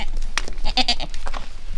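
Goat bleating in a barn, one close, loud, wavering call lasting about a second, alone without talk.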